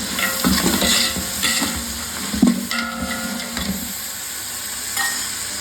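About 150 grams of beans sizzle and fry in ghee with vegetables in a pan for vegetable pulao, a steady close crackle with brief stirring scrapes and clatters throughout, no talking.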